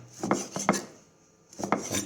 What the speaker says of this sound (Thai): ได้เนื้อมันก็มาหั่นนะครับ หั่นพอดีพอดีคำครับ